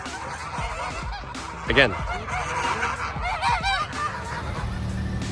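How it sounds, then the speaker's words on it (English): Geese on a hiking landscape in Germany's Malerweg region, honking repeatedly in loud, overlapping bursts close by, with one brief spoken word among the calls. "Taking video of geese."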